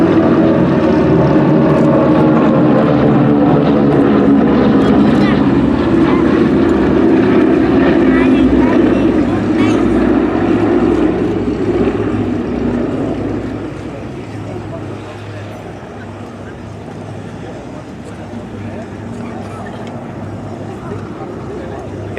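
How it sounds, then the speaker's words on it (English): Vintage formation of three Beech 18s and a C-47 at the Flying Legends air show, Duxford, a loud sustained droning of radial piston engines and propellers that fades somewhat after about thirteen seconds, with a commentator talking over it. "three absolute classic aircraft there, four aircraft there, the three Beech 18s and the C-47"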